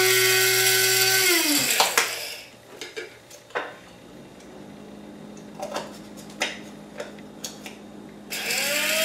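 An electric coffee grinder whines at the start, falls silent through several light clinks and handling knocks, then spins up again at the end.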